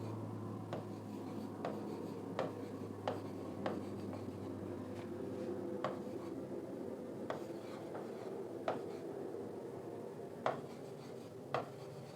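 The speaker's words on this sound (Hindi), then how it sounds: "तो हम लिखते हैं अभी साथ साथ लिखिए इसके सिलेबस को।" Pen writing out a syllabus by hand during an exam-preparation lesson: light scratching strokes with about a dozen sharp ticks where the pen taps or lifts, steady and close, over a low background hum with no talking.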